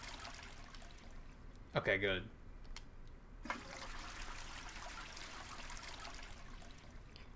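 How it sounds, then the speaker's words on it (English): A toilet flushes in the Animal Crossing: New Horizons video game, a brief gurgling whoosh of water lasting under a second, followed by a quieter trickling wash, with people talking over it. "Oh, you can flush it."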